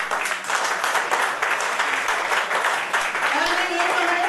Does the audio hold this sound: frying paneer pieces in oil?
no